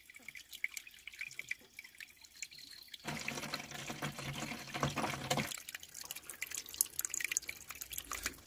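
Water runs and trickles at a forest camping spot in India, surging into a loud, steady rush for a few seconds mid-clip before easing back to a softer flow amid outdoor background noise.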